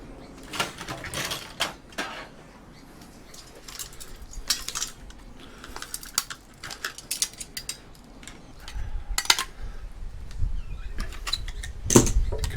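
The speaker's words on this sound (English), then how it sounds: "Because the thread on the screw is a bit threaded through, I have to just crack it out" Metal screw being forced and cracked out of a laboratory titrator during teardown, giving scattered clanks, ticks and ratcheting scrapes of metal parts and tools, close and moderately loud, with no talking.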